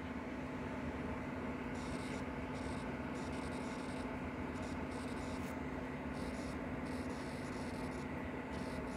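Chalk or a marker writing on a board in a calculus lecture gives intermittent scratchy strokes in short bursts over a steady low room hum, with no talking.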